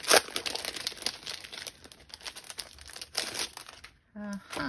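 Patterned paper from a card-making kit crinkles and rustles as it is handled during unboxing, close and intermittent, with someone talking over it.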